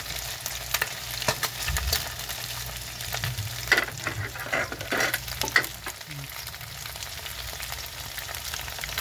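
Chicken skin frying in its own rendered fat crackles and sizzles steadily close by, with scattered sharp pops and a few scraping stirs, and no voices.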